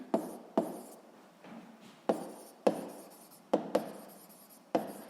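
Pen strokes scratch on paper while notes are written in a physics lesson: short, sharp scribbling bursts with brief pauses between, close and fairly quiet.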